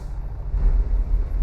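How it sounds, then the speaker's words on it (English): A 2019 Freightliner Cascadia engine brake in American Truck Simulator gives a loud, deep, steady low rumble that holds throughout, with a faint high whine above it and no voices. "That is your engine brake."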